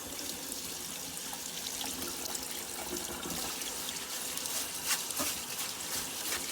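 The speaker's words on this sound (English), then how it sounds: "I am going to rinse the lentil" Water splashes and sloshes steadily as lentils are rinsed, a continuous close trickling and swirling with occasional louder splashes.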